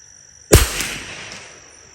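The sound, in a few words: Marlin Model 25 rimfire rifle shot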